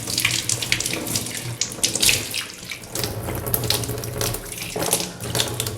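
A kitchen tap over a square sink runs steadily, a continuous close splashing rush of water with no voices.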